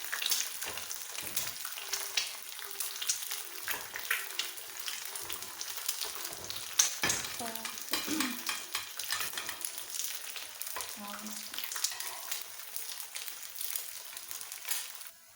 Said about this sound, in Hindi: अंडा हमारा कितना अच्छा और प्यारा सा फ्राई हो चुका है